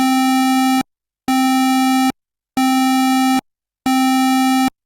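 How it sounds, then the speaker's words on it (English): Buzzy, hollow square-wave synth note sounds four times in even on-off pulses at the same pitch, loud and clean with silence between, for a lead patch. "set it to square wave so it's fairly buzzy but hollower than the very rich sawtooth"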